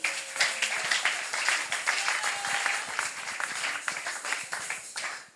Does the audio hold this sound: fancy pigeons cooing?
no